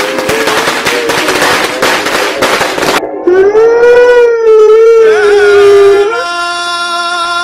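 Diwali firecrackers burst in a loud, dense run of crackling pops for about three seconds, followed by a long, wavering whistle-like tone that rises and sustains before fading into a high hum.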